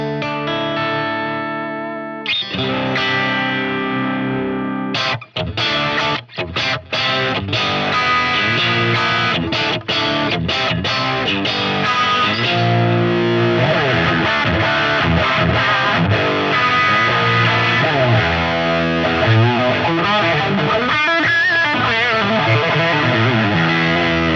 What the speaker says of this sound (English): turn off the reverb and the delay so you could just hear the native guitar